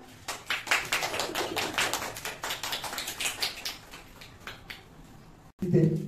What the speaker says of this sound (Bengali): সবাই করতালি দাও।